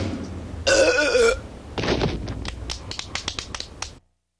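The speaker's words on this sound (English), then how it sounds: "are you burping again?" A cartoon boy lets out a long, loud burp, followed by a rough, croaky stretch of further belching with sharp clicking and tapping sounds, then silence at the end.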